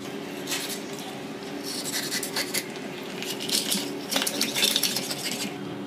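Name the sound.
knife filleting fish meat off the bone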